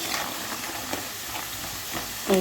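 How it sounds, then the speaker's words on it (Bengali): Close, continuous sizzle of elephant foot yam frying in a pan until reddish-brown, with a few faint stirring scrapes over the hiss. "ওলটাকে ভালো করে ভেজে নিই বেশ লাল লাল করে"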